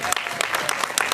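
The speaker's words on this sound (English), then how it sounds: "give them the applause they deserve" A short burst of audience applause for actors at a Disney fan expo stage show, quick close-together claps forming a brief dense patter.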